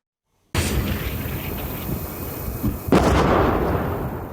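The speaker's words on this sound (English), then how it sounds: "The explosions are dangerously close" A continuous rumble of distant explosions from the Russia-Ukraine war begins abruptly, then a sharp, louder blast lands closer, leaving a heavy roaring wash that slowly fades.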